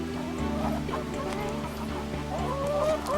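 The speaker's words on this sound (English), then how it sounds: "We're coming over to see the chickens now." Farmyard chickens at an ecovillage, with hens clucking and calling in a busy, continuous flock close by, their overlapping cackles rising and falling over a steady background hum.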